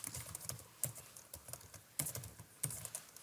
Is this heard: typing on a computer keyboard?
yes